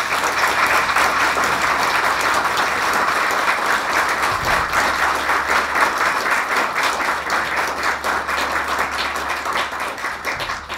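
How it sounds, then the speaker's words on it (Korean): A seated audience at a university retirement lecture and commemorative book presentation applauds loudly and continuously, a dense even wash of clapping that holds for about eleven seconds before easing slightly at the end. "다시 한번 뜨거운 박수 이렇게 주셨으면 감사하겠습니다"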